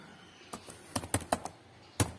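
A handful of crisp computer keyboard keystrokes typed while entering a pip command, irregular taps spaced over a couple of seconds, close and fairly quiet against a faint room hiss.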